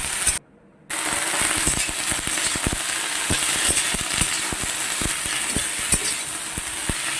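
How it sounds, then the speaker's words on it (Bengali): Ivy gourd and potatoes sizzle steadily in a hot pan while a utensil scrapes and clicks through them in repeated strokes, close and loud after a brief silent gap at the start. "কুঁদরি আর আলু একসাথেই দিয়ে দিলাম, দিয়ে এগুলোকে বেশ করে নাড়াচাড়া করব।"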